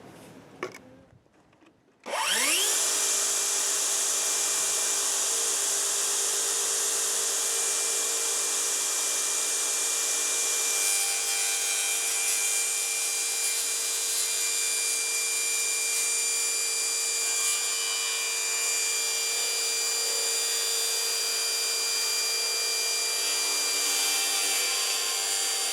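Power tool cutting a second wooden piece for an automatic chicken feeder, starting after a brief quiet moment and running loud and steady for about twenty-three seconds with a constant whine.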